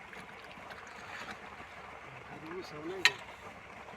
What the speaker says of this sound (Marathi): दोन मोटर चालू केल्या